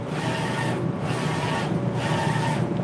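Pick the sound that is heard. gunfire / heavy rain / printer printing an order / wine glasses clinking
printer printing an order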